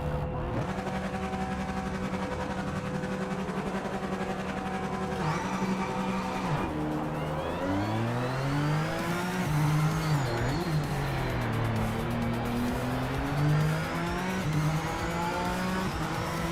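Mid-engine race cars in the sim racing game Project Motor Racing, engines droning steadily then rising and falling through gear changes and revs, with tire squeal as the cars corner and skid.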